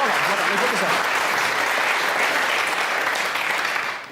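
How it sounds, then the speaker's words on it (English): A studio audience at a hypnotism show claps in a loud, dense burst of applause that holds steady for a few seconds before starting to fade. "Round of applause for Joe."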